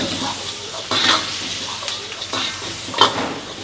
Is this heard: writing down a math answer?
no